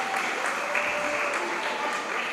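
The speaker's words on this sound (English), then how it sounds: "Please give them a round of applause as they make their way to the podium." An audience at a Hosanna Preparatory School graduation claps steadily in a dense, even patter of many hands for a couple of seconds.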